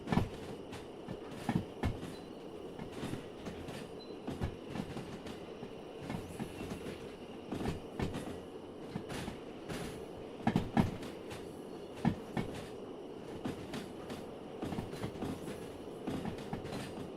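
Train rolling on rails in a railway video game, with a steady rumbling drone and rhythmic wheel clicks and clunks over joints, continuous and moderately loud without talk.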